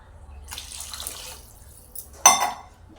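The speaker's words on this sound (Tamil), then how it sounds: "மூணு சொம்பு தண்ணி ஊற்றிட்டேன்" Water poured from a vessel into a pot of chickpea and egg adai curry after frying chilli powder, a brief splashing gush near the end of a quiet stretch with faint kitchen clatter before it.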